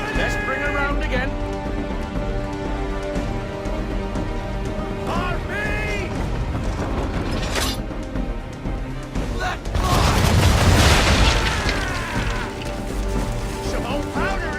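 Old powder barrels blowing up under ship cannon fire in the Assassin's Creed III video game, a loud crashing burst rising out of dense game sound and music, with a voice talking throughout.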